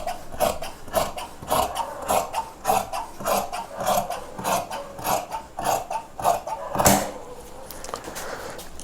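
Scissors snip through chudidhar pant fabric in a steady series of close, crisp cuts, roughly two per second, with a louder scrape near the end.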